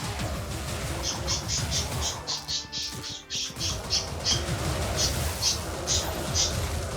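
A pet bird squawks for attention in a home, with sharp, high calls repeating in quick bursts through most of the stretch over a steady low background rumble.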